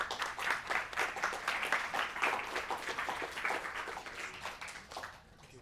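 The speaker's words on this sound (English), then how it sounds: "Let's give a round of applause to them." Audience applause for panel members called to the front at a tech meetup, a dense steady patter of many hands clapping at moderate distance, holding for several seconds and easing slightly toward the end.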